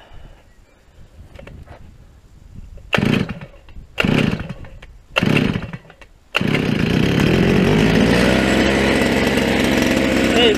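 Petrol brush cutter being cold-started for the first time this year: three sharp pull-cord bursts, then the engine catches and runs on in a steady loud buzzing drone, close by, with quiet talk before.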